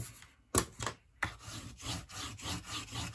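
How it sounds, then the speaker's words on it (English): A folded paper card is rubbed flat for a Stampin' Up! project. Two sharp taps come first, then rhythmic dry scraping strokes repeat close by with no voice. "Just give it a little rub."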